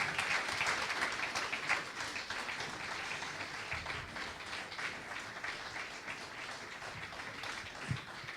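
Sustained applause from a church congregation honoring the worship team, a dense steady wash of many hands clapping throughout, fairly distant and even, with no voices standing out.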